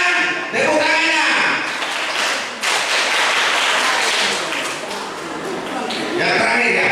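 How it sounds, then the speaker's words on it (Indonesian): Sunday school children clap their hands together in a church service, a dense burst of applause that swells and holds throughout, with voices mixed in. "Tepuk tangannya."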